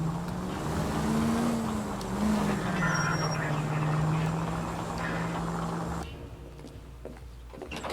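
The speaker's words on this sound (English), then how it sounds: "Hit the siren." A police car siren wails steadily in the L.A. Noire video game, rising and falling over a continuous car engine rumble for about six seconds before cutting out, leaving quieter driving noise.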